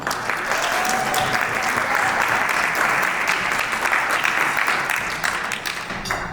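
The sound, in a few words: audience applause at awards ceremony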